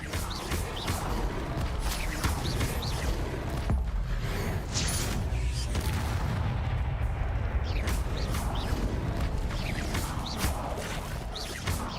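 Spell casting in Hogwarts Legacy, including an Incendio fire spell, makes dense, continuous combat noise of bursts, booms and crackling impacts, loud and busy throughout with no speech.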